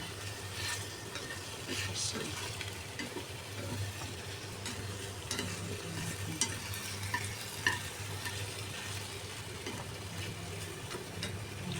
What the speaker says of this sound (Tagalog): Fry ko na siya ng half ang ating potato and carrots.